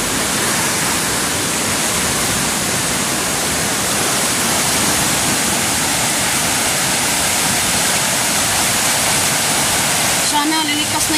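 The swollen Piñan river rushes in flood, a loud, unbroken roar of churning water close by, steady from start to finish with only a faint change near the end.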